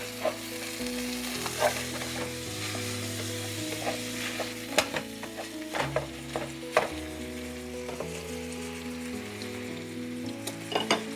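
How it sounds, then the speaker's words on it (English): Ground beef sizzling in a pan over medium-high heat while being broken up, a steady loud frying hiss with intermittent scraping and stirring knocks from a utensil, heard close with no speech. "over medium-high heat, I'm going to add in the ground beef. And then I'm just going to break it up."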